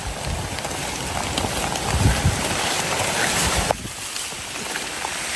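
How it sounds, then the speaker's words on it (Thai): Heavy rain pours steadily in a Thai forest where wild mushrooms, including termite and earthstar mushrooms, are growing, a dense loud hiss that drops somewhat in intensity near the end, with no talking. "ฝนตกถี่ยิงออกเลย"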